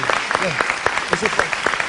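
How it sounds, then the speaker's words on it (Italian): Brief applause from a small festival crowd, scattered claps over a murmur of voices. "Un applauso."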